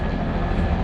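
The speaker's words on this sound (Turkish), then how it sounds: "Bu helikopter de gidiyor geliyor gidiyor geliyor." A helicopter passing back and forth near Guatapé, Colombia, its rotor and engine making a loud, continuous, close drone with no speech.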